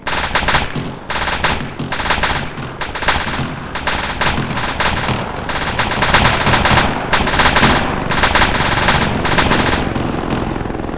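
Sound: machine gun fire in the video game ARMA 3

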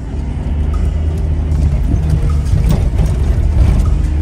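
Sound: four-wheel drive vehicle driving on rough track

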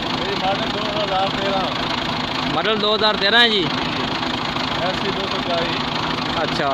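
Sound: Massey Ferguson MF 240 tractor engine idling

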